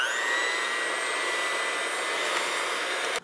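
A handheld electric mixer whirs steadily and loudly up close as it blends wet ingredients for low-carb keto whoopie pies, a continuous high motor whine that cuts off abruptly at the end.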